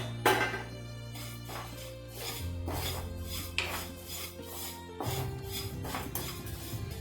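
Dry vermicelli (semiya) stirred and roasted in a hot pan for upma, a series of scraping, rasping strokes of a spoon against the metal pan in a steady rhythm, close and clear, with a low hum beneath and no talking.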